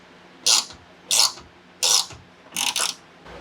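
Ratchet wrench tightening the last screws that clamp a SARD BRZ-style rear wing onto the trunk of an ND Miata: four short, distinct bursts of clicking spaced evenly apart, close by and alone.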